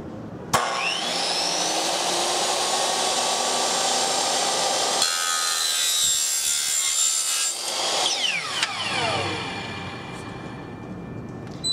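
A DeWalt miter saw with an abrasive disc cuts through a piece, heard as a loud, continuous high whining grind lasting about eleven seconds, with the pitch shifting midway and near the end as the blade spins down.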